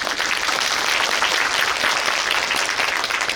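An audience in a cinema hall at a guest-visit talk event applauds an editor-in-chief, a dense, loud, continuous wash of clapping with no talk over it.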